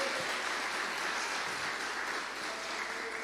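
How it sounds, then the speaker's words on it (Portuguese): A church congregation gives dense, continuous clapping that blends into a steady wash of applause with no pauses. It sounds fairly distant and even throughout, during a Portuguese-language service. "Bate palmas para Jesus."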